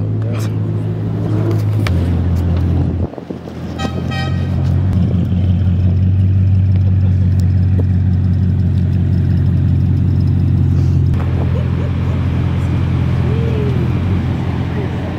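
A Ford Mustang rolls in at a hypercar show, its engine a steady mid-pitched rumble that holds close and loud throughout, with a brief dip early on and people chatting nearby.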